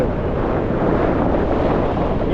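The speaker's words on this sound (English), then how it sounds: "Whoa, wind." Strong outdoor wind buffets the microphone on a cold, cloudy fell near Skiddaw, a loud and steady roar that never lets up and has no talk over it.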